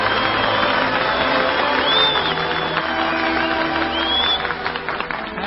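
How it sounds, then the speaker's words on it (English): A radio studio audience applauding a singer, a dense steady wash of clapping from many hands that fades slightly toward the end, heard through an old, narrow-band broadcast recording. "We give our applause where it is really deserved."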